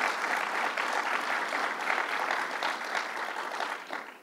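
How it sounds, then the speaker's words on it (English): A crowd at a Long Island political event with Governor Cuomo applauds, giving steady, dense clapping that holds for about four seconds before tapering off. "give her a round of applause"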